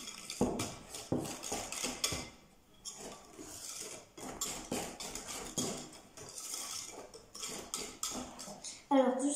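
Crêpe batter with sugar and salt is mixed in a bowl, a utensil clinking and scraping against the sides in quick repeated strokes, fairly close, with brief pauses and a voice speaking.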